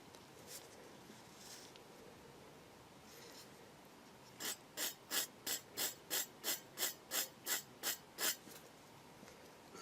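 A hand file rasps back and forth on a plastic part of a Takom 1/35 Chieftain Mk10 scale model kit, about a dozen quick, even strokes after a few faint scrapes, close and fairly quiet.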